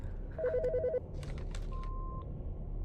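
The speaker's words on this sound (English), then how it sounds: "The fucking phone." Phone in the game Autopsy Simulator ringing in a short electronic ring burst, followed by a single longer steady tone over a low background hum, with no voices.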